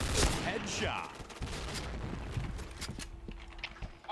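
An M4A1 rifle fires in Point Blank in short bursts and single shots, sharp cracks from near and far mixed with footsteps, with someone talking over it.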